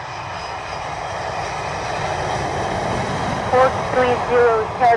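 An Air France airliner lands on runway 07 at SJO airport in Costa Rica, its engines a steady, fairly loud roar throughout, with brief faint tonal chirps near the end.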